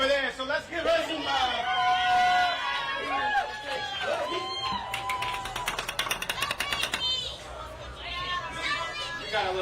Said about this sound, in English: We got a little crowd going on here,